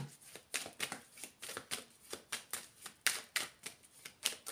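Oracle cards are shuffled and laid out for a reading: a quiet, close series of quick papery riffles and slaps in a steady rhythm, with no talking.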